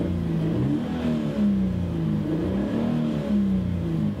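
Toyota GT86 engine revving steadily, a sustained mid-pitched exhaust note that rises and falls in gentle swells, close and loud with no talking.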